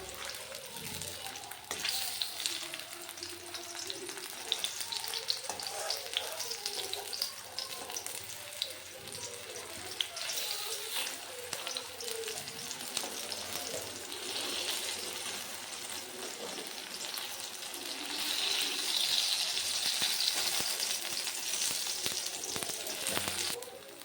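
Papaya bora fritters sizzle steadily in hot oil in an iron kadai, a dense continuous crackle with faint scattered pops that swells slightly louder near the end, heard close with no talking.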